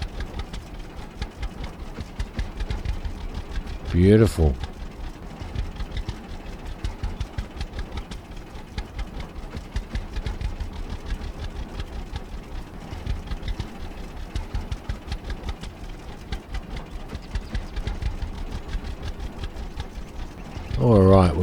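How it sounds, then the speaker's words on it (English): A tractor engine idles in Farmer's Dynasty with a steady, low, rumbling chug. A voice speaks briefly near the start and again at the end. "This tractor just sounds so awesome."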